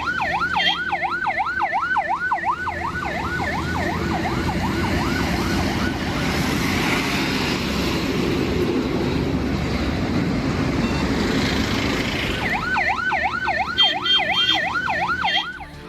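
A police vehicle siren escorting an oxygen delivery in Kanpur wails loudly in a fast rising-and-falling pattern, pauses mid-way while traffic and engine noise continue, then resumes close by.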